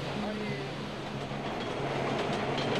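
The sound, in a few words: New York City subway train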